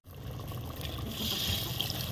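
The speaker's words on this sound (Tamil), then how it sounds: "புளிப்புக்கு புளித்தண்ணி சேர்த்துக்கலாம்" Tamarind water poured into a pot of dried-fish and field-bean curry, a steady close liquid trickle and splash that thickens slightly toward the end, with no voices.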